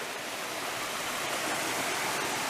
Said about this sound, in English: And here's Mill Prong Creek. There's a little waterfall.